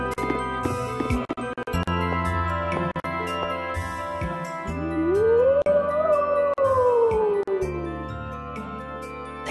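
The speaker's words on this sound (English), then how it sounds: "There's that howl again." An eerie howl in the video game Tales of Symphonia: Dawn of the New World, a long rising and falling wail that swells over sustained game music for several seconds.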